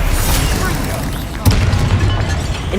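Stupefy stunning spell striking a target in the video game Hogwarts Legacy: a sudden booming impact midway through, over a dense, continuous rumble of combat sound.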